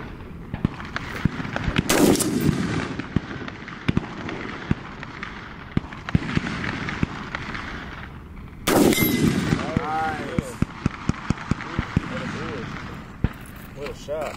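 Sig 716i rifle firing outdoors, two loud sharp gunshot blasts several seconds apart with echoing tails, mixed with people talking and scattered handling clicks between shots.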